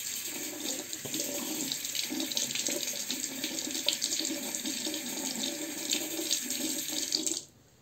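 Tap water runs steadily into a sink while a Muhle Rocca razor is rinsed under it, a continuous close splashing hiss that cuts off abruptly near the end.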